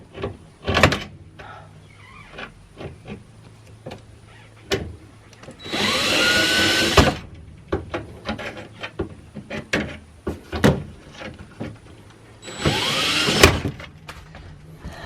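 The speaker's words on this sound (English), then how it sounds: "was drilling out this bolt here, which you could see kind of coming out from that other side" A power drill backing a bolt out of an Airstream trailer panel during a renovation, two whining bursts of a few seconds each amid scattered knocks and clanks, no talking.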